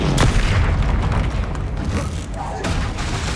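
Confringo fire spell explosions booming in the Hogwarts Legacy video game during a troll fight, a loud close blast at the start with further impacts and crackling battle noise that barely lets up.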